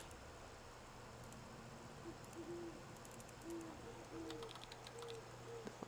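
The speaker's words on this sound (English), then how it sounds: "A lot of birds." Owl-like birds hoot softly in the background of a video game, several short repeated calls in loose succession over a low steady hum, faint and distant.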